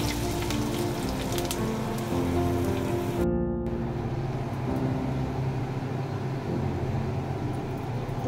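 Eggs frying in a pan, a dense continuous crackling sizzle like rain on a surface, steady and moderately close, with a brief cut midway.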